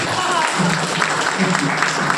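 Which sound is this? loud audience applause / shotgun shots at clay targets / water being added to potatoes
loud audience applause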